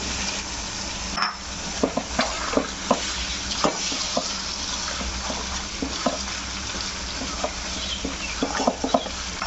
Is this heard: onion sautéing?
yes